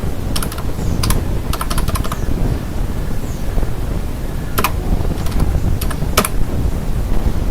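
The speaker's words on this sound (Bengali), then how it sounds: "ব্রাউজারে গিয়ে লিখব wordpress.org বা ওয়ার্ডপ্রেস ডাউনলোড।" Typing on a computer keyboard into a web browser: rapid clusters of close, crisp key clicks in short bursts with pauses between them, over a steady background hiss, no voices.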